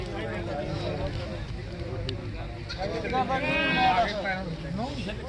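Goats bleat in wavering cries, loudest near the end, among steady background voices and outdoor bustle at a goat market in Sedha Singh Wala village, Punjab.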